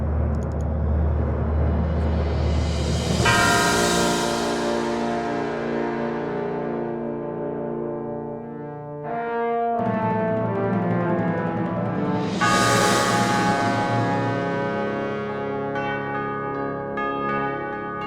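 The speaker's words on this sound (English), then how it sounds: "So the timpani is going to do a roll right into that first big hit." An orchestral percussion passage with a timpani roll swelling into a big hit, backed by cymbal crashes and ringing tubular bells that decay with echo, then a second swell and strike, loud and full with no voices.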